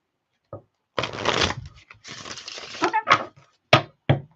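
Tarot cards being shuffled by hand in several quick riffling bursts, close and crisp, followed by a few sharp taps of the deck.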